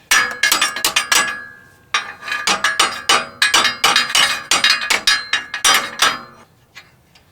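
A small hammer knocks a torn Chevrolet Colorado truck frame flange back into place, delivering quick bursts of sharp, ringing metallic blows with brief pauses between runs.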